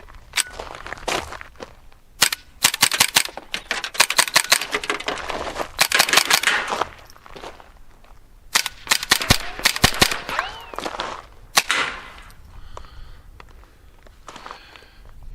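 Rapid series of sharp suppressed .22 gunshots fired with CCI ammunition through a Banish 22 suppressor, coming in tight clusters of cracks with short pauses between bursts, fairly close and loud, with no talking.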